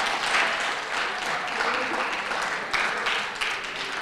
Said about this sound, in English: Please give both teams a round of applause for working hard to prepare for today's debate.